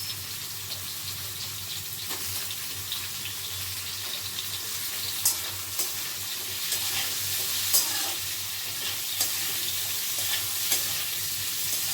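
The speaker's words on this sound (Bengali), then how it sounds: "গ্যাসটা বাড়িয়ে দিলাম, আলুটা একটু নেড়ে নিলাম" Potatoes fry in a pan over a gas flame with a constant bright sizzle, while a utensil stirs them now and then with occasional soft scrapes and taps close by.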